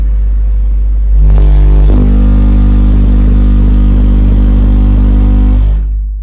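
A car engine holds a steady idle-to-2,000 RPM drone with windows down, a deep constant rumble with a layered harmonic hum and slight clatter, close and loud throughout with no talking.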